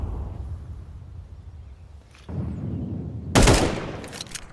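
Gunfire in a first-person tactical shooter video game, a loud close burst of shots near the end, preceded by quieter game ambience and a rising rumble.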